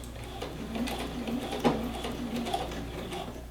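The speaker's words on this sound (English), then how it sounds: "And then once I get to the end, I'm going to do a back stitch." A sewing machine runs steadily at close range, back stitching at the end of a seam on a shirt pocket, with a soft mechanical whir and faint ticking and no talking.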